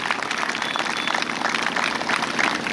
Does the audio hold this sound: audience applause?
yes